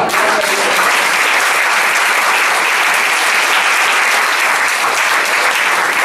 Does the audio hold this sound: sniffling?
no